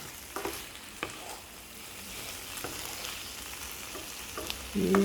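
A Kadaknath black chicken curry simmers and sizzles softly in a pan while a spoon stirs it, with a few light scraping knocks and a louder clatter at the end.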